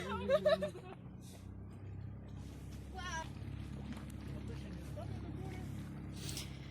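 A steady low motorboat engine drone runs throughout as the boat leaves harbor, with faint voices and splashy water noise over the hum.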